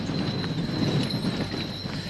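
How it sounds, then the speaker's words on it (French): Two Trait du Nord draft horses pull a plow across a field, their hooves thudding in a steady walking rhythm under a constant outdoor hum. "Labourer un champ avec des chevaux de trait, l'activité est un peu désuète."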